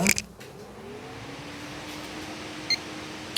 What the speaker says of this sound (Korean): 지금 삑 소리 짧게 한번 났죠.